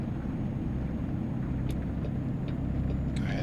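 Simulated 500hp 2012 Paccar MX-13 truck engine in American Truck Simulator, hauling a load uphill with a steady, loud low-pitched diesel drone and a few faint clicks over it.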